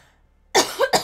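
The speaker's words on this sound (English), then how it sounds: "I need a cough." A single close, sharp cough from a person, followed by a brief second throaty burst, loud against near silence.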